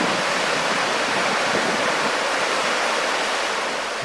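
Water rushes below Mina Sauk Falls in Missouri after four days of steady rain, a loud, constant, dense roar of falling water that stays steady throughout with no voices.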